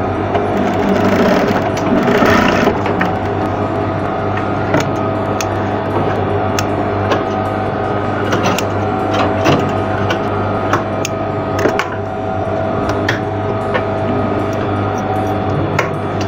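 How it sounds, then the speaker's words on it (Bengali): A sewing machine runs steadily while stitching a straight seam on an apron, loud and close, a continuous mechanical whir with faint ticking and clicking throughout. "এই যে দেখুন সোজা করে সেলাইটা দিয়ে দেবো এক ফিট ফাঁক দিয়ে"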